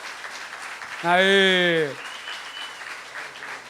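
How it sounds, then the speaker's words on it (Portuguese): A studio audience at a televised Catholic program applauds a guest's entrance, steady clapping spread throughout, while one voice lets out a brief loud shout over it. "Já foi aplaudido."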